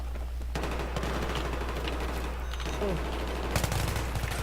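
Automatic gunfire in Battlefield 3 on Operation Metro, a steady crackle of rifle bursts running through the whole stretch under a low game hum, with a few sharper close shots near the end.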